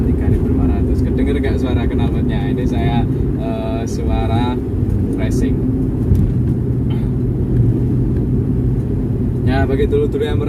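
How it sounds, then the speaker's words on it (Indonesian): A 2004 Suzuki Espass with a racing exhaust idles and holds around 3500 RPM, giving a steady, loud, deep engine drone throughout, while someone talks over it in bursts. "RPM 3500. Kedengar gak suara knalpotnya? Ini saya suara racing."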